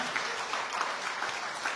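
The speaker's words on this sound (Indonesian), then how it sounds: "Tepuk tangan yang lebih meriah lagi." Steady, dense applause from a church congregation during a sermon, a continuous wash of clapping from many hands filling the room, with no voices over it.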